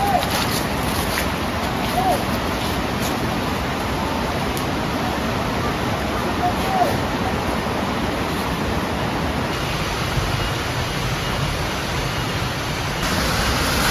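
Steady broadband rush of a river flowing near a hidden waterfall at Curug Indrakila, a constant wash of water with no breaks, heard alone without voices.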